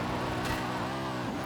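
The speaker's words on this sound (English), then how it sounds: "I go into a corner and full throttle it all the way around the corner" A BMW in Forza Horizon 5 held at full throttle through a corner, its engine droning loud and steady with a rising and falling harmonic sweep, no voices over it.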